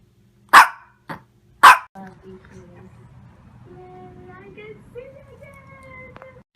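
Three loud, close barks from a small pet dog named Snookie come first, then a person speaks continuously while the dog falls quiet.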